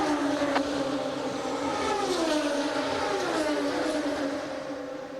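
An Indy race car rolls into pit road at the 2004 Indianapolis 500, its engine a continuous, loud drone whose pitch slides downward as it slows.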